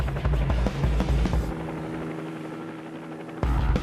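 A helicopter flies overhead with a loud, steady rotor thudding that continues throughout, easing slightly in the middle before swelling back near the end; no voices.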